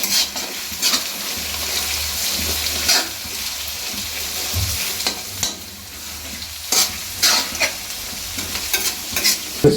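Onion, curry leaves and green chilli sautéing for beef mendali, a continuous loud sizzle broken by repeated scraping stirs and clanks of a spoon against the pan.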